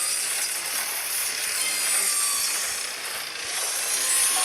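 In the video game Red Ball 4, a saw trap gives a steady, loud whirring and grinding like a spinning saw blade that runs without a break, with no voices.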